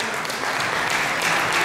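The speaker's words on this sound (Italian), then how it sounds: "un applauso" Applause from an audience at an underwater photography award ceremony in the Adriatic region, a dense steady wash of clapping filling the short moment without pause.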